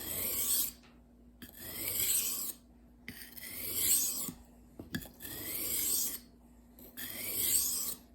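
A knife blade is drawn across sharpening stones in five long rasping strokes, each a steady gritty scrape separated by short pauses, close and clear with no talking.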